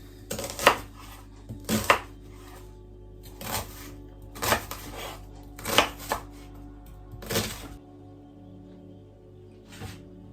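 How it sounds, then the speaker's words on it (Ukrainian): A knife finely chops onion on a board in short bursts, several quick cuts grouped irregularly with pauses between, close and fairly crisp. "починаємо з нарізання цибулі. Нарізаємо досить дрібненько"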